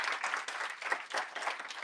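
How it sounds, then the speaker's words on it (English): An audience at a children and families forum gives the panelists a sustained round of applause, a steady wash of many hands clapping, moderately distant and even throughout. "Give them another round of applause,"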